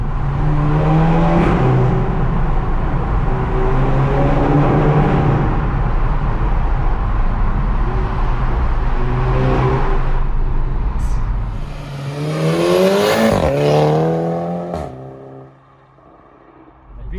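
A Volkswagen GTI Edition 30 fitted with an APR exhaust revs and accelerates loudly for most of the run, engine drone rising and falling close by, then eases off near the end with the sound dropping to a quieter cruise.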